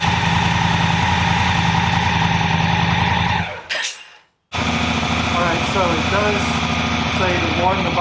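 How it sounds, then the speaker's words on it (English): A Honda Africa Twin DCT motorcycle engine, warmed up, idles steadily with a buzzing, even drone, cuts out briefly for about a second, then resumes at the same steady idle. "so the engine's warm"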